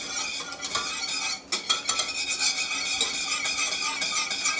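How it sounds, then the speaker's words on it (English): Spoon scraping and stirring melted cream cheese in a pan on the stove, soft repeated scrapes and light clinks over a faint sizzle, close and steady with no voices. "Just trying to see if I can stir through it with no clumps, no chunks"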